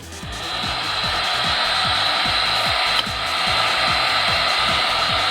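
A noisy heat gun blows steadily and loud while heating Worbla thermoplastic, a continuous whooshing roar with faint rhythmic tapping underneath, no talk.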